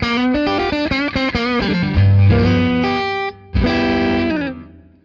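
Electric guitar through a tube amp cranked to slight overdrive, a quick run of picked notes followed by sustained chords that ring out and fade, with warm grit.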